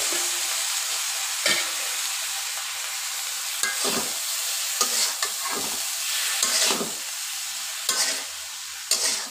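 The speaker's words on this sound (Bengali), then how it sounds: "সবটা দিয়ে এখন ভালোভাবে কষিয়ে নেবে।" Eggplant and potato with turmeric, chili powder and other spices sautéing in a pan for a potato-eggplant chorchori, a steady broadband sizzle broken by sharp scraping stirs every second or two, close and fairly loud with no talking.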